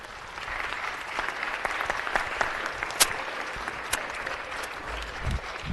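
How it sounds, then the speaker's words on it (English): A city council meeting audience claps for a Wilmington resident about to speak, a steady patter of applause from a moderate crowd with a few sharper claps standing out. "Please give her a round of applause."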